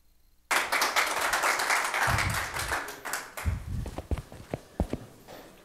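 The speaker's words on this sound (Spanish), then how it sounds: "Lo vamos a recibir con fuertes aplausos." Applause from an audience at a mining technology conference, starting abruptly and dense, then thinning into scattered individual claps.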